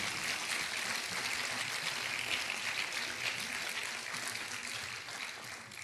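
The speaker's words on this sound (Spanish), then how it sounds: "Denle un aplauso al Señor." Congregation applause at a Spanish-language church service in Mexico, a thick, continuous hiss of many people clapping that stays loud throughout and fades slightly at the end.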